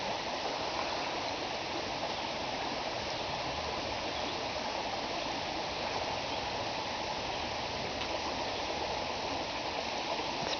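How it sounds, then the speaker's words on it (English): A waterfall pours steadily into a lake, heard from a kayak as a loud, unbroken broadband rush of falling water that holds constant throughout. "here is the waterfall."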